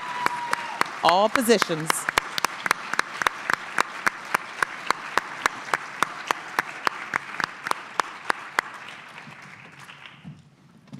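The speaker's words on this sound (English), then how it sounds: "And thank you for clapping for them." An audience applauds school district staff at a family forum, the clapping starting just after a brief spoken phrase and continuing steadily for several seconds before tapering off.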